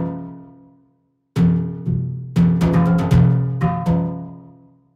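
A Hive software synthesizer patch in a mechanical-feeling game soundtrack plays plucked, bell-like notes: one decaying tone, a pause, then a cluster of bright staggered hits ringing out and fading, close and clear.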